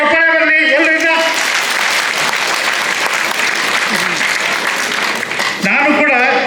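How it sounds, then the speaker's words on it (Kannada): An audience claps loudly and steadily at a Billava Association women's day gathering in Bangalore. The applause is dense and sustained throughout, with a brief dip near the end before it swells again. "ಅವರಿಗೆ ಒಂದು ದೊಡ್ಡ ಚಪ್ಪಾಳೆ ಬರಲಿ ಎಲ್ಲರಿಂದ."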